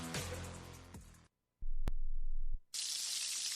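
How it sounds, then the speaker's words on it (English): Bacon sizzles in a pan, heard as a short, crackling hiss that follows a few seconds of other kitchen noise and a brief silence. "That is the sound of bacon sizzling,"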